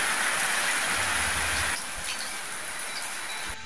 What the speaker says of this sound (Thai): มาชมบรรยากาศฝนนะคะ